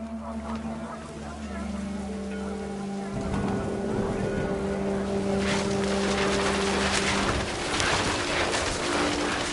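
Heavy rain and wind from the video game What Remains of Edith Finch: a steady, loud wash of noise that grows denser and rougher partway through, with a low drone beneath and no talk.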